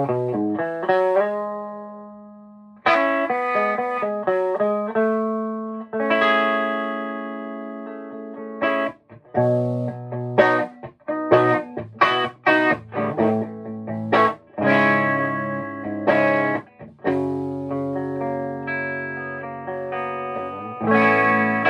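Electric guitar plays loudly through an amplifier with distortion and chorus effects, struck phrases and chords ringing out and decaying, heard from across a room.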